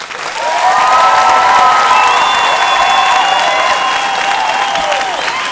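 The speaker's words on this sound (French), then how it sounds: "Du bruit pour Sonia, s'il vous plaît." Audience at a 2018 dance competition applauding and cheering, a dense roar of clapping with high whistles and shouts rising over it, loud and sustained throughout.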